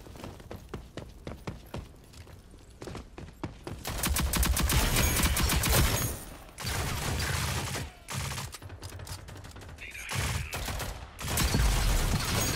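Automatic weapon fire from the shooter video game Rogue Company, sustained loud bursts and rapid volleys of gunshots with brief pauses between them, no talking.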